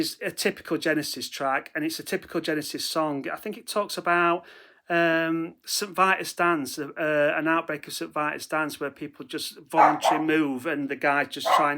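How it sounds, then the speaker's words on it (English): A dog barks and yips in the background while someone talks continuously in the foreground, the barking faint beneath his voice. "Sorry, that's my dog in the background."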